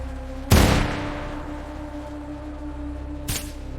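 A single loud gunshot cracks out with a booming tail that slowly fades. A second, weaker shot follows about three seconds later over a low steady hum.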